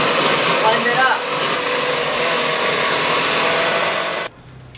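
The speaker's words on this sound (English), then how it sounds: "So we've blended it in the blender" A kitchen blender blends a smoothie with a steady, loud whirring roar for about four seconds, then cuts off abruptly to near silence.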